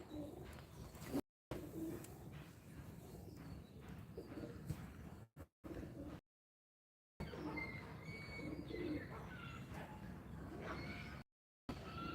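Soft cooing of a domestic pigeon repeats among other bird calls on a rooftop on a winter morning, with brief gaps of silence between stretches of steady outdoor ambience.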